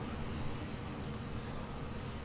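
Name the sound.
airplane engine in a flight video game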